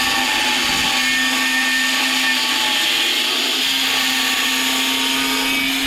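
An angle grinder cuts around a manhole lid on a building job, giving a loud, steady, high-pitched whine that holds without a break from start to finish.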